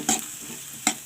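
A spoon scrapes twice through a frying pan as Amrutham powder is mixed into the cooking food, two brief close strokes over a faint sizzle, no talk.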